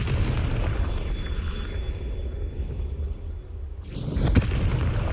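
Booming spell explosion from the Confringo curse in Hogwarts Legacy, a low rumbling blast that swells, dips and then bursts again with a sharp crack near the end.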